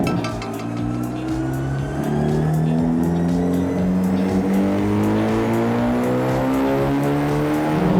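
A Hyundai Avante rated at 280 horsepower revs hard on a dyno at a tuning shop, running on regular fuel, its loud close engine note climbing steadily in pitch through the gears under a constant roar.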